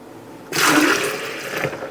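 Liquid suddenly gushes and splashes into a glass pitcher, a loud rushing pour that continues steadily for over a second before tapering.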